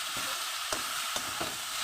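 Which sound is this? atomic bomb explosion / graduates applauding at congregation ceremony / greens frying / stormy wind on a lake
greens frying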